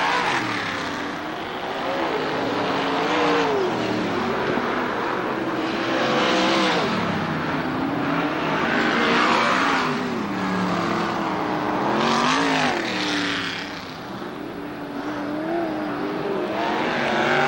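Sprint cars of the CRA series racing around the Hales Corners third-mile oval, loud engine roars swelling and fading in repeated waves as the pack laps past.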